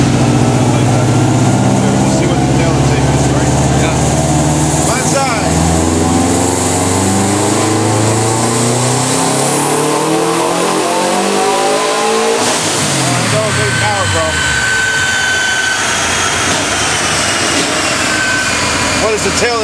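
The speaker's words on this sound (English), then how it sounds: "I like the way the car sounds better with a traditional style header" A Subaru car engine fitted with a traditional-style header revs up and down repeatedly, loud and close, with rising and falling pitch sweeps and a raspy exhaust tone.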